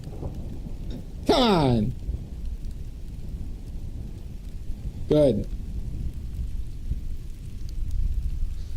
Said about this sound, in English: No, that's a thunderstorm.